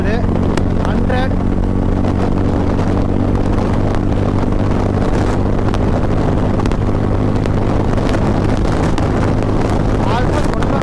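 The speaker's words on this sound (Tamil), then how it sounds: "இப்போ சைலன்ஸோட சவுண்டு லைட்டாக கம்மியாகுது" A Royal Enfield Classic 350 motorcycle cruises at highway speed, with a steady low exhaust thump buried under heavy rushing wind noise at the helmet microphone. A rider talks intermittently throughout.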